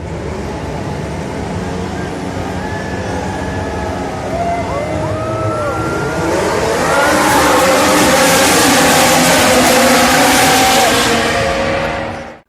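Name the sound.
Formula 1 race cars starting the Hungarian Grand Prix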